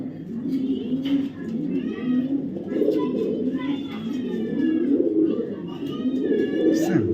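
Racing pigeons coo repeatedly in low, throaty warbles, several birds overlapping close by, with some higher chirps mixed in.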